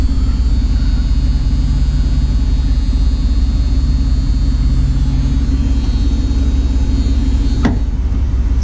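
A deep, steady Chrysler V8 engine in an old Plymouth Gran Fury rumbles at idle close by, low and constant throughout, with a brief sharp click near the end.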